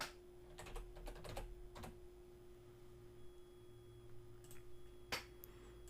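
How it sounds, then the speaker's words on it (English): Typing on a computer keyboard: short bursts of quick, light key clicks with pauses between them, close and faint over a low steady hum. "And I'll type in women's."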